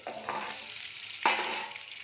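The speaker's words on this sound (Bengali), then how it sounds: "পটলগুলো একটু উল্টে পাল্টে দিতে হবে।" Pointed gourd pieces sizzle steadily in a pan of oil while a utensil scrapes and clatters once against the pan as they are turned.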